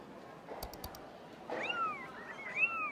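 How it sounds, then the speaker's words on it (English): A few quick clicks, then a cat meows twice in a thin, slightly tinny voice from a cat video playing on a device, fairly quiet against a soft background hiss. "I can hear you watching cat videos."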